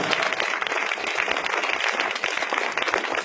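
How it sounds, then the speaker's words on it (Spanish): A church congregation claps for the Lord during a sermon, a steady dense wash of hands clapping, fairly close and even, with a faint murmur of voices underneath. "Dale palmas al Señor."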